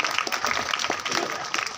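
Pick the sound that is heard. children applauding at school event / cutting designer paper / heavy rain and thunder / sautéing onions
children applauding at school event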